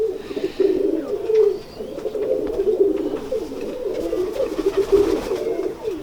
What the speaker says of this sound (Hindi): ये कबूतर थोड़ा सा क्रीज में पड़ा हुआ है, बड़ा कबूतर था